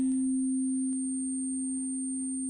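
A steady pure sine tone from Ableton's Operator synthesizer with an added harmonic, a sustained hum paired with a faint high overtone, clean and unwavering with a couple of tiny clicks.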